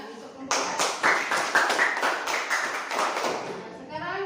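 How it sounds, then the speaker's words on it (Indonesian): A classroom of elementary students applauds a student group, a burst of scattered hand claps lasting a few seconds, fairly close and moderately loud, with no talk over it. "Tepuk tangan untuk kelompok 4."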